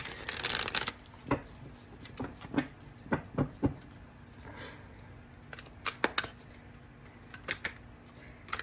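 Tarot cards being shuffled and riffled in quick bursts, a rapid flutter at first followed by scattered soft snaps and taps, close by in a quiet room.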